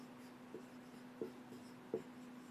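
Chalk or marker writing on a board during a physical education class, three short separate scratchy strokes, quiet against a steady background hum.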